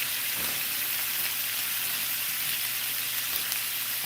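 Bacon sizzling in a frying pan on a home stovetop, a steady, dense crackle and hiss that runs unbroken throughout, close and fairly loud with no talking.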